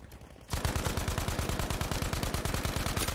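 Rapid automatic gunfire in the Battlefield V video game starts abruptly and continues as a steady, loud stream of evenly spaced shots.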